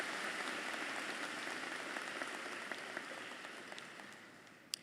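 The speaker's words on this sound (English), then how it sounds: "can we please give a big round of applause to your family and friends and loved ones" Steady applause from a large graduation ceremony audience, a dense wash of clapping at a distance that slowly fades, with a sharper clap near the end.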